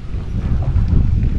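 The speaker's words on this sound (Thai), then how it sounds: "บรรยากาศดีมากนะครับลมพัดเย็นสบายมาก" Outdoor wind at a temple in Phatthalung, Thailand, a steady low rumbling roar as air buffets the microphone, continuous and fairly loud with no voices.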